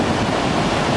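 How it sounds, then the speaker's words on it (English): Beach waves on a hot, crowded day, heard as a continuous loud wash of surf and wind rumble, with no talking. "We're at the beach."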